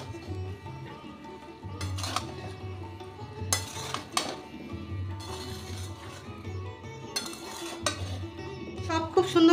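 A spoon stirs and scrapes through coconut rice with egg and cashews in a pan, with repeated clinks and scrapes against the metal in bursts and a faint low hum underneath.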